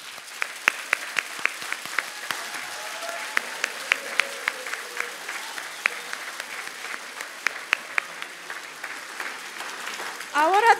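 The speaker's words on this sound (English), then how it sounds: "give yourself and your fellow finalists a huge round of applause" Scattered applause from an awards-night audience for business award finalists, moderate clapping with distinct individual claps over a murmuring crowd and background chatter, swelling briefly at the very end.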